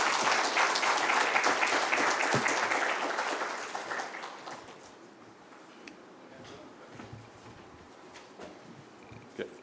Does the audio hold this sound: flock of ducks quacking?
no